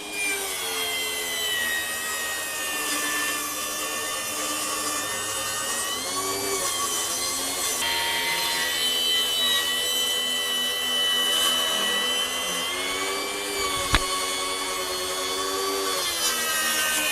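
A FLEX 24V brushless table saw rips through a 4x4 with a steady, loud motor whine and blade drone that holds for the whole stretch, with slight shifts in pitch as the wood feeds through.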